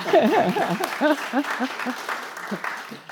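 An audience at an Asia Pacific Triennial art panel gives a short round of applause. The clapping runs underneath a voice that keeps talking throughout the three seconds.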